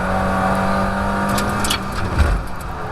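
Mazda MX5 race car engine on track at Croft, revving steadily and loudly up close with a brief throttle blip during a heel-and-toe downshift near the end, under constant wind and road noise.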